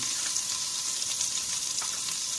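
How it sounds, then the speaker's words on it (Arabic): Butter melts in a hot pan before beef goes in to sear, producing an even, steady close sizzle on its own, without talk. "ورا ما شوية يموع الزبد، وراح ننزل قطعة اللحم"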